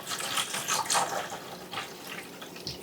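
Distilled water poured onto a gun, a close, splashy run of pouring and trickling with short bursts and no voices.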